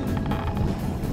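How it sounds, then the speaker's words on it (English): Steady low engine drone of a motorboat somewhere in the distance at sea in zero visibility, heard from a sailboat, mixed with wind rumble, continuous and fairly even throughout. "It's a motorboat."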